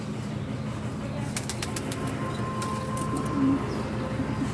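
White pigeons coo softly amid a busy bird enclosure at a cow shelter and animal hospital in Nagaur, with fluttering wings and scattered chirps over a steady background hum.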